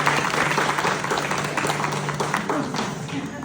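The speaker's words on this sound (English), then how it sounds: "Give her a round of applause." Audience applause from a crowd at a live show, steady clapping filling the room for a few seconds with some voices mixed in.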